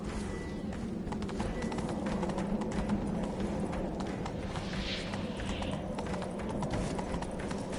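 Roach the horse galloping in the video game The Witcher III: rapid, steady hoofbeat clip-clops run continuously at a moderate level over a busy ambient background.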